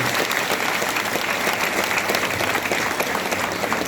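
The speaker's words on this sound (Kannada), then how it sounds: "ಬಿ ಎಸ್ ಯೋಗಿರಾಜ್ ಶಿಲ್ಪಿ ಅವರಿಗೆ ಒಂದು ಚಪ್ಪಾಳೆಯನ್ನ ನೀವು ಕೊಡಲೇಬೇಕು" Applause at an arts festival honouring sculptor B. S. Yogiraj: a large audience claps steadily and loudly for several seconds, a dense, even wash of hand claps with a faint murmur of crowd beneath.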